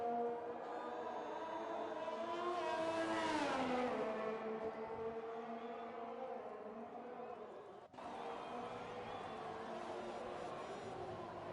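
Formula 1 car in the F1 2020 video game on a flying lap at the Abu Dhabi Grand Prix, its engine whining and rising in pitch as it passes, then dropping away, with steady engine drone continuing.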